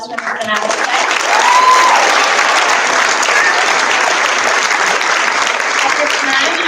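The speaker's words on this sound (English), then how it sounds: "And a round of applause for Ms. Donato." A crowd claps in sustained, dense applause at a school moving-up ceremony, staying loud and even for several seconds, with a brief tone sounding early on.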